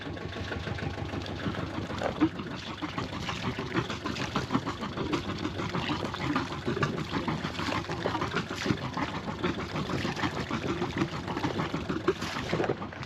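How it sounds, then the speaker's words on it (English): A steady flow of cooling water gushes out the back outlet of an idling engine, a continuous close splashing and rattling churn with the motor running underneath. "Yeah, that's a pretty good flow of water coming out the back."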